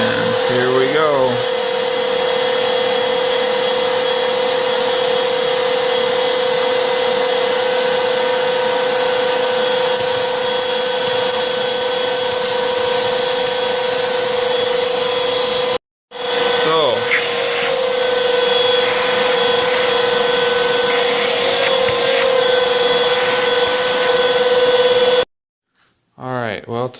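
A Black+Decker BDH2000PL handheld vacuum picking up Cheerios runs with a loud, steady high-pitched motor whine, broken by a short stop partway through and a final cutoff just before the end.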